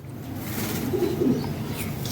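Racing pigeons of a summer-flying strain with silky plumage coo softly and low, a short murmuring burst in the middle of a steady background hiss.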